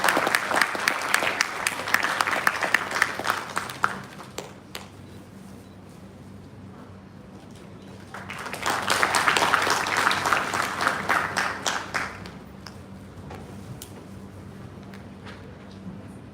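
Applause at a biotechnology institute ceremony, where guests are honoured with mementos and bouquets, comes in two loud bursts, each about four seconds long, with a quieter murmuring room between them.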